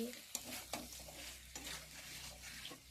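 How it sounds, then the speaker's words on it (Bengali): Chicken meat frying with onion and chili in mustard oil, a close, continuous sizzle broken by several sharp scrapes and taps of a spatula against the pan. "এই যে মাংস ভাজা করছি"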